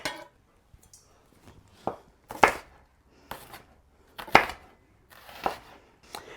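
Knife chopping through chicken on a cutting board for freezer bags with a dull blade, a series of sharp irregular thunks and scrapes spaced about a second apart, close and fairly loud with no talking.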